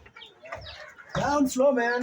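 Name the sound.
chickens clucking in a poultry house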